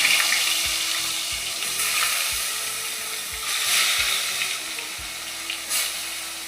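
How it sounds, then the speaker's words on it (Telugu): Dried fish sizzle steadily in hot oil in a pan, a close broad crackle with a few soft knocks from the cookware along the way and no voices. "ఎండు చేపలు కూడా గుడ్లు ఎలా ఫ్రై చేసుకున్నామో అలాగే ఫ్రై చేసుకొని పక్కకి తీసేసుకుందాం"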